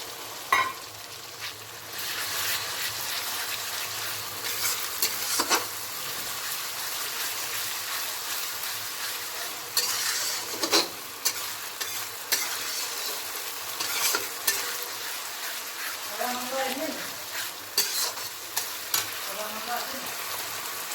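Tomato paste added to garlic and onion frying in a pan, a soft continuous sizzle with occasional stirring scrapes and clinks running throughout.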